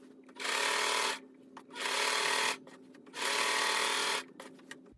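Sewing machine stitching fabric for a pinwheel lap quilt in three steady bursts of rapid whirring, each about a second long, separated by short pauses with faint handling noises.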